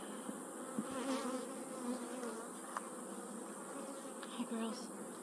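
Honeybees buzzing steadily around an opened backyard hive, a close, continuous hum with individual bees flitting near and away in brief louder passes.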